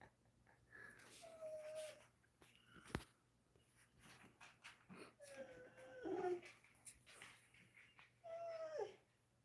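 A dog whimpers in three separate high, thin whines spread across a quiet room, faint and close, with a sharp soft knock between them.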